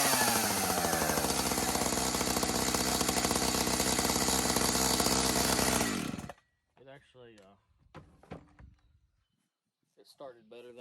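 An Echo Timberwolf chainsaw, awaiting a carburetor rebuild, runs loud and steady close by for about six seconds before cutting off, after which someone talks.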